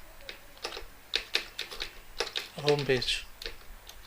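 Quick clacking keystrokes on a computer keyboard while HTML code is typed, irregular taps close by beneath someone speaking.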